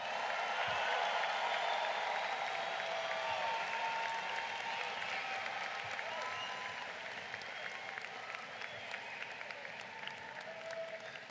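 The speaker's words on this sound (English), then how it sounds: "How about one more round of applause for the class of 2025?" A long, sustained round of applause from a large crowd at a high school graduation ceremony for the class of 2025, loud and continuous, tapering slightly toward the end.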